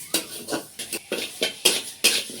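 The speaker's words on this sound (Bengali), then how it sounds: "ডালটা একটু শুকনো খোলায় নেড়ে নেব, ডালের যাতে কাঁচা গন্ধটা চলে যায়" Dry mung dal lentils stirred in a hot dry pan for a lentil and bottle gourd dish, giving a rhythmic series of close scraping, rattling sweeps, about eight strokes alone with no talk.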